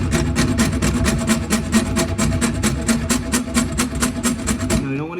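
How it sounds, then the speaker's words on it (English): A hacksaw blade cuts a kitchen sink shut-off valve fitting with fast, even back-and-forth strokes, a loud, close rasping rhythm running steadily for about five seconds before stopping. "it gives me the most ability to move back and forth with my hacksaw blade"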